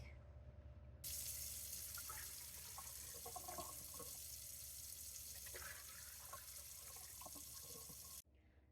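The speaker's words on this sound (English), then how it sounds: "Now we're gonna put 16 cups of fresh cold water into the pot." Fresh cold water gushes from a tap into a stock pot for bone broth, a steady close hiss of filling that starts abruptly and cuts off near the end.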